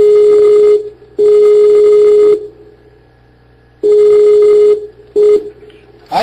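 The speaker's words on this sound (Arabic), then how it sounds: "هنتصل بيه تاني شو ما يرد ولا لا؟" A telephone line sounds a steady single-pitched tone in repeated on-off bursts, a few long and one short, loud and close, with silent gaps between, like dialing tones while calling someone back.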